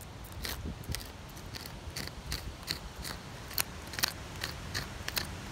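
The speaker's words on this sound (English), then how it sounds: "So you just want to scrape it." Dried spotted lanternfly egg masses being scraped off cracked tree bark, giving a run of short, crisp scratchy strokes in an uneven rhythm, close and fairly quiet, with no voices.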